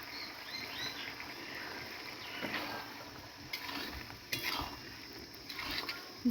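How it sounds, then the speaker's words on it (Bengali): Fried onion, poppy seed and chopped egg being stirred in a pan, with a quiet, continuous scraping and soft sizzle and a few louder scrapes of the utensil near the end. "ভালো করে নেড়ে চেড়ে নিচ্ছি"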